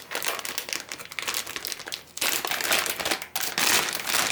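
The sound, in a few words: peeling open motherboard packaging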